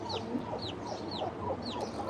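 A white chicken clucks in a run of short, nasal calls at close range, with a steady low background murmur underneath.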